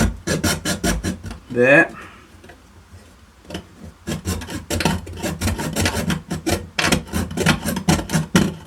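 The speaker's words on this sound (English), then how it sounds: "we need to cut this rail off this guard bit here" Hand sawing or rasping through a rail on a guard piece, a rapid run of close scraping strokes with a pause partway, then steady rhythmic strokes resuming, with brief talk in between.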